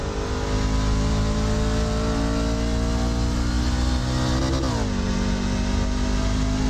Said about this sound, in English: Heading off the rev limiter now.